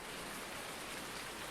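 Steady rainfall hisses as an even, unbroken wash of noise in Farming Simulator 19, heard briefly and alone without any voices.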